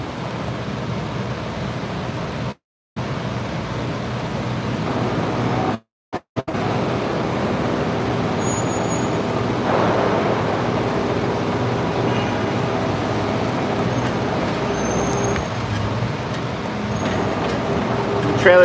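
Steady city road traffic rumbles around a bicycle courier towing a trailer through New York streets, a continuous loud wash of engines and tire roar with a few abrupt dropouts, and a voice talks over it at times.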